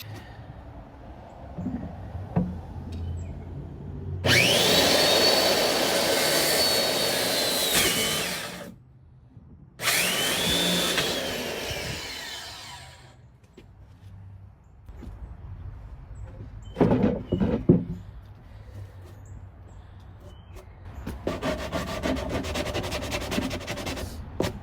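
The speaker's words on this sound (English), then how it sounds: "I'm just going to attempt to cut the corners off with the circle saw" A circular saw cuts the corners off a wooden hitch table in two loud, close bursts of a few seconds each, followed by quieter knocks and handling noises and a fainter stretch of saw or tool noise near the end.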